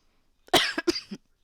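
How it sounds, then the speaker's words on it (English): One person gives a sharp, close cough, a short burst of two or three harsh hacking pulses in quick succession against near silence. "Stupid cough."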